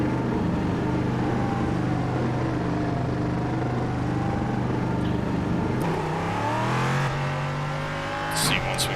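An LMP3 race car in iRacing at Oulton Park drones steadily at a held engine note, then climbs sharply in pitch as it accelerates, loud and close throughout.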